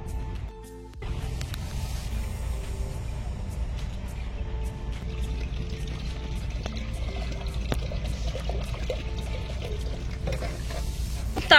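Battered eggplant fritters (beguni) frying in hot oil, a steady close sizzle with occasional stirring and scraping, continuous throughout and louder toward the end.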